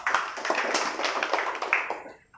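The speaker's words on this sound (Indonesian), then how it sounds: "silakan tepuk tangan" Audience applause at a regional economic recovery event in Tegal, a dense patter of clapping hands that holds steady for a couple of seconds and then tapers off.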